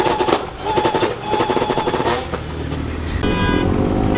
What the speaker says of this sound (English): Supercharged two-step.